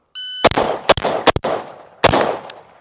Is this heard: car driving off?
no